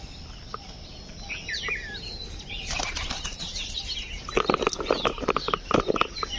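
Pigeons burst into flight in a village at morning, with a rapid run of close, loud wing flaps and clatter that thickens toward the end over quiet outdoor background.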